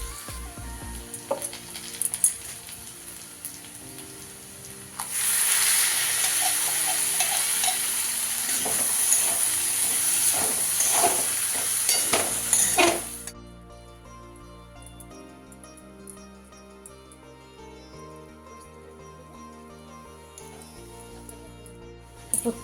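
Poppy seeds (posto) frying in a pan, first a low crackle, then a loud, dense sizzle with scattered pops for several seconds, which drops back to a quieter, steadier fry near the end. No talking.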